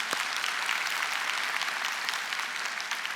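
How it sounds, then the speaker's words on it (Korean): A church congregation gives sustained applause during a Sunday service, a dense, even patter of many hands that holds steady for several seconds and fades slightly at the end. "우리 하나님께 영광의 박수 드립니다."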